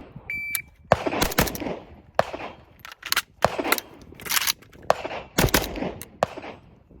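A Yugo M70AB2 underfolder rifle fires in a series of sharp, loud outdoor shots, singles and quick doubles spaced irregularly across the stretch, each with a short echoing tail, preceded by a brief timer beep.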